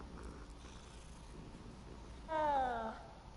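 A cat in Hogwarts Legacy, a low, faint rumbling purr in the background, followed by a short, clearer meow-like cry near the end.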